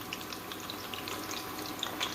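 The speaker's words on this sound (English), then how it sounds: "You hear that sizzle?" Steady, close sizzling of white onions frying in a hot pan, a constant crackly hiss with small pops, no voices.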